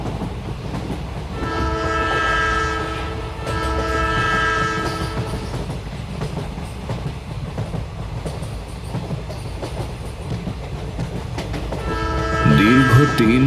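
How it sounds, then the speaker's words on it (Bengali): A train sounds loud sustained horn blasts as it starts moving again, the whistle repeating over rumbling wheels and clatter, with a rising tone near the end. "ট্রেনটি হুইসেল দিয়ে আবারও আগের মতো চলতে শুরু করলো"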